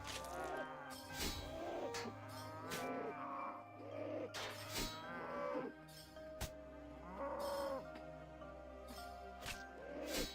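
Cows mooing in a video game, a series of low, drawn-out moos repeating every second or so over a quiet steady hum, with sharp clicks and a few brief higher calls in between.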